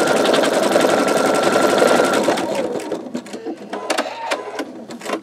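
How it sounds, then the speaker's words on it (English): An embroidery machine stitches out a bumblebee quilt block, a loud rapid mechanical chatter that runs steadily, then turns into choppier bursts and pauses as the stitching slows near the end. "this is going to stitch out like the center and the edges of the flower"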